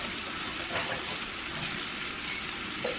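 Whole coriander seeds hitting a hot pan make a steady, dense sizzle and crackle that runs close and even from start to finish, with no voices.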